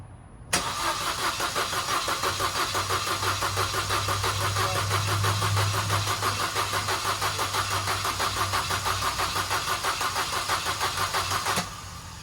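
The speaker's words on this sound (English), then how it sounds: "bump the motor with the fuel injectors taken out, so we can Prime it." Car engine cranking over steadily with its fuel injectors removed to build fuel pressure, a fast even chugging rhythm that runs loud and close for about eleven seconds before stopping.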